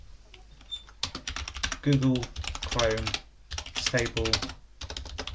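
Rapid clicking keystrokes on a computer keyboard enter a terminal command on a Debian Linux machine, the taps running quickly and close under a continuous spoken voice.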